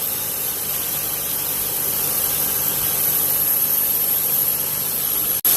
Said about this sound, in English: no squealing, good sounding pump action